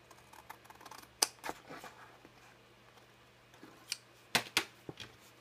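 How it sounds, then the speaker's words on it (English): Big scissors cut through card with sharp, close snips, a few isolated cuts followed by a quick cluster of crisp clicks near the end amid soft handling rustles. "And I shall use my big scissors for this one."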